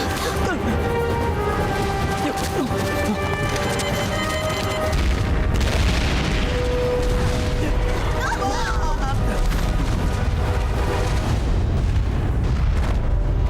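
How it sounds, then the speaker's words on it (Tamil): Bomb explosion in an action movie set at a temple, a heavy roaring boom and rumbling crash that fills the scene continuously, mixed with dramatic music and effects. "பாம்பு வெடிக்க போகுது"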